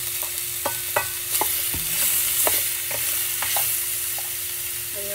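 Ginger, onion and tomato sauté in a hot pan for a mussel soup, a close steady sizzle broken by repeated scrapes and clacks of stirring.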